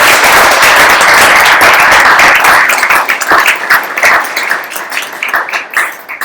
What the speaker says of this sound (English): I just want to give them, in return, a round of applause